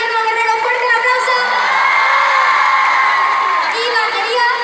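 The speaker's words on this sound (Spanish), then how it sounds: "un fuerte aplauso" A concert audience at a show in Alicante roars and whoops for the guitarist, a dense, loud, steady mass of high-pitched cheering that swells slightly and carries only light clapping underneath.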